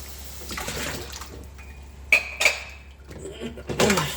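Dishes, cups and pots are washed in water, with splashing and running water, sharp clinks of crockery and a couple of bright ringing knocks of metal, close up and uneven in rhythm, over a low steady hum.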